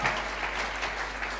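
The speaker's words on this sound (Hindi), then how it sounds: "तालियां हो जाए इनके लिए।" Brief burst of audience clapping at a seminar as a child is invited onto the stage, a dense patter of many hands lasting just over a second.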